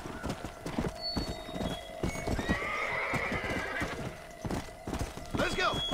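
A horse galloping in the Red Dead Redemption: Undead Nightmare video game, with rhythmic hoofbeats and a whinny over game ambience, while a player talks over the action.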